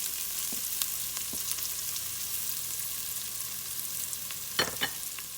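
Minced garlic and onions cook in butter in a soup pot, a soft, steady sizzle under a few sharp clicks and scrapes of stirring near the end.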